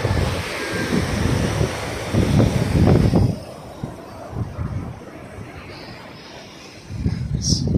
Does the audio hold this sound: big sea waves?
yes